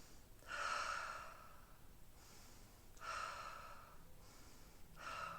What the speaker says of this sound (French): J'inspire et quand ça arrive par là, avant même que je sois à la fin de ce que je pourrais faire, j'expire.